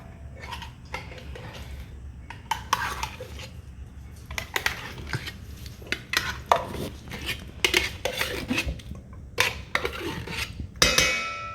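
A spoon scrapes and rakes an apple pie cinnamon roll mixture out of a bowl, giving irregular clinks and scrapes against the dish in close, uneven bursts with quiet gaps between.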